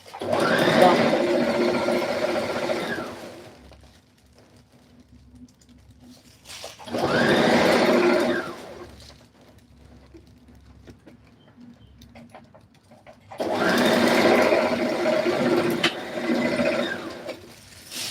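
A sewing machine stitches a peplum blouse in three sustained whirring runs of a few seconds each, loud and close, with quiet gaps between them and no talk.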